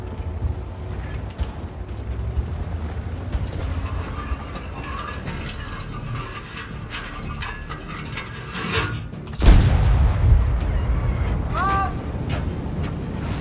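Tank cannon shot from a Progetto 46 in World of Tanks: a continuous mechanical engine and track rumble, then one sudden loud boom that rings out and fades, with someone talking over the game sounds.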